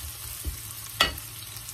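Half a large onion frying in a pan for a spicy potato dish with squid and corn, a soft steady sizzle broken by a brief clatter and then a sharper stirring scrape near the middle.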